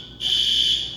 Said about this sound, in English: that was my random alarm.